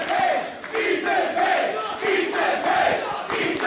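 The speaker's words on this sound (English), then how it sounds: "now we got the whole crowd chanting for Ethan Paige" A wrestling crowd at an Absolute Intense Wrestling match chants for Ethan Page in a steady, rhythmic, repeating call, loud and continuous, with the chant rising and falling in regular waves.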